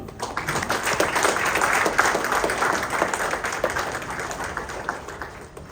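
An audience applauds at the launch event for Hamsaleka's film OK, a dense, moderately loud patter of clapping that swells and then slowly thins over several seconds.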